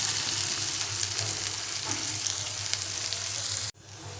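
Potatoes fry in a pan with a steady, close sizzle and crackle that runs evenly, then cuts off abruptly just before the end.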